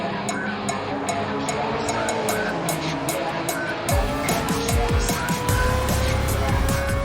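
An engine-swapped Mazda RX7 race car in Gran Turismo 7 roars loudly and continuously, the engine pitch climbing as it accelerates, with tire squeal and a sharp shift in tone midway as power comes on.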